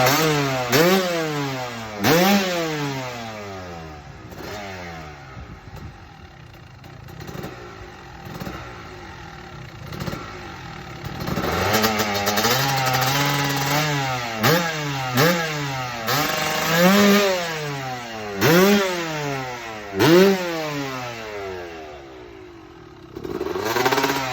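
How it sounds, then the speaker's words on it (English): A two-stroke dirt bike fitted with a Pro Circuit pipe revs hard and repeatedly during a carburetor jetting test, its engine climbing and falling in sharp blips before a long, loud run of sustained acceleration with more rising revs, heard close and alone. "here is the final jetting video of Mitch first taking it and then Schnike testing it out to make sure it was all set and ready to go"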